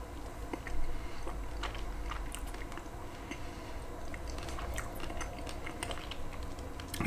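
Crunchy Huel meal replacement being chewed close to the mic, with a steady run of small crisp crunches and wet mouth sounds lasting several seconds and no talking.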